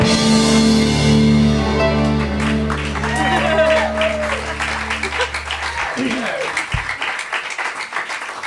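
An audience applauds and cheers at a live concert as a song's final chord rings out and fades, with the clapping building to a dense, lively patter and occasional shouts while someone begins talking.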